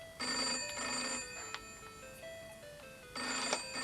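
A telephone rings in a domestic TV drama setting, two electronic trilling bursts separated by a pause with quieter tones between, fairly close and clear with no talk over it.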